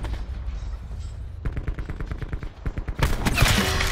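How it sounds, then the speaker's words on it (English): Sniper rifle shots crack out in Black Ops 4 Blackout, a run of sharp, loud bursts in quick succession that swell into a dense, noisy climax near the end. "Did you just snipe him, brother?"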